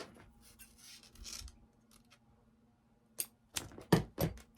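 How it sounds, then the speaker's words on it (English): Small scissors snipping the little price tags off Dollar Tree craft supplies: a few soft rustles early on, then a cluster of sharp, close snips near the end, with no voice. "we're just gonna cut the little tags off here"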